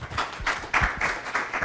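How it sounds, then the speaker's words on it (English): A dairy symposium audience gives a steady round of applause in a room, the clapping dense and continuous for a moment. "let's give them all another round of applause"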